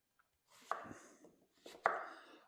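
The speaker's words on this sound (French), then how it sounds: "On coupe l'oignon en 4." A yellow onion being quartered with a knife on a cutting board, two crisp chops about a second apart, close and quiet with no talk.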